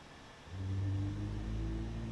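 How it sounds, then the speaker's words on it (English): Engine 1 of an airliner spools up during start in Microsoft Flight Simulator 2020, a low rumble that rises suddenly about halfway through and then holds as a steady drone with a faint whine. "Starting engine 1."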